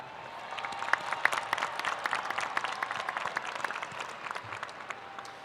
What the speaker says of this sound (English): let's give ourselves a round of applause one more time